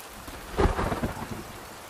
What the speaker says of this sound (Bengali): বাইরে ঝমঝমিয়ে বৃষ্টি পড়ছে।